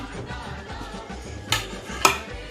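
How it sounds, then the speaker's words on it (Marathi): Whole spices tipped into a pressure cooker, two sharp metallic clinks against the pot standing out over a quiet kitchen background. "आता हे जे आपण खडे मसाले घेतलेले आहेत हे मी टाकते"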